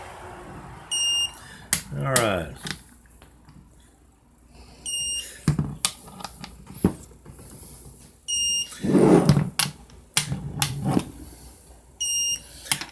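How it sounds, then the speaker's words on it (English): Short high electronic beeps from a torque wrench repeating at intervals, four in all, between bursts of clanking and handling noise during valve body work, with a brief spoken remark. "There we go. Hear the beep."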